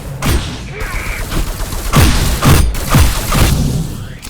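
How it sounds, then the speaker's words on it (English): Punchy impacts from deflecting shots back at enemies in the game Ghostrunner, a series of loud booming thuds and bursts spaced about half a second apart with whooshing layers. "The impact of bouncing shots back has such an oomph to it that it's addictive."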